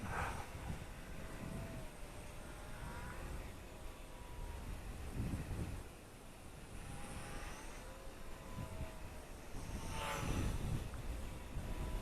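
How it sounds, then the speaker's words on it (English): An Eachine Mini Mustang P51D RC warbird plane flying in wind, a faint high buzzing motor that rises and falls as it passes several times, mixed with gusty wind rumble and no talk. "That is a pretty fast little plane when you've got it throttled up, especially when it's going downwind."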